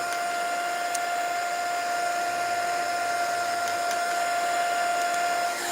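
Heat tool blowing steadily over a crafted CD ornament, a continuous close whirring drone with a high whine that holds level throughout, with a couple of faint clicks.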